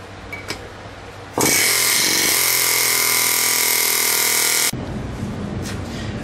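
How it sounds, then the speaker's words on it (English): An air hammer with a hammerhead fitting drives wheel studs into the hub bore of a Chevy Silverado K2500 front hub, a loud rapid pneumatic rattle blasting continuously for about three seconds amid shop noise. "or in our case an air hammer with a hammerhead fitting on there. That'll get them tight in the bore."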